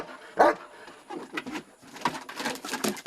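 A German Shepherd named Soldier barking, one sharp close bark followed by a run of quicker, softer yips and whimpers.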